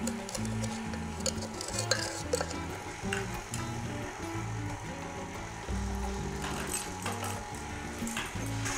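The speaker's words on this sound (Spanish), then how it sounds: "Batimos entonces con la taza de azúcar moreno la mantequilla hasta cremar" Butter and brown sugar are beaten together in a bowl until creamy, likely with an electric mixer, giving a steady rhythmic whirring and ticking that runs continuously with small fluctuations and no talk over it.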